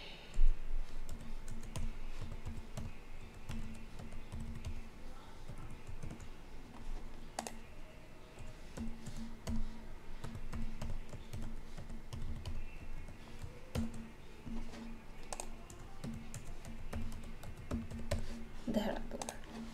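A computer keyboard clicks in faint, irregular bursts as someone types in a password, with a voice speaking quietly in between.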